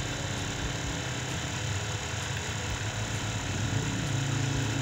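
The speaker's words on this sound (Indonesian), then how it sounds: "Sambil digas lur kalau perlu, biar lebih nyedot lagi." A motorcycle engine runs steadily with light throttle blips during an engine decarbonizing clean, a loud, continuous close-up drone with no speech.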